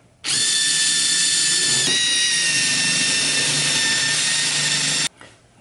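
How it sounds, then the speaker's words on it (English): A power drill whines loudly at a steady high pitch for about five seconds, with a brief dip partway through, then stops abruptly. "we're going to have to drill some uh, holes for that out so we can mount this thing"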